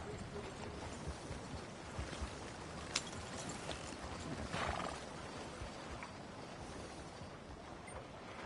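A horse clip-clops along in the western video game Red Dead Redemption 2, a steady run of hoof beats under a soft wash of ambient outdoor noise, with one brief sharper knock partway through.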